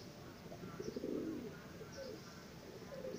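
Soft, low pigeon cooing, a few rolling coos heard at a distance over a steady background hush.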